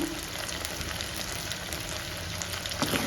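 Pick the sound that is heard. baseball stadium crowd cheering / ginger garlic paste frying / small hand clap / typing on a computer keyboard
ginger garlic paste frying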